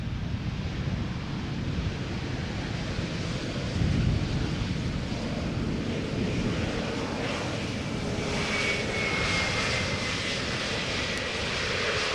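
SAS Airbus A320neo airliner arriving from Copenhagen at Schiphol, a broad, steady engine roar heard from a distance with a faint whine rising in the latter half, no voices.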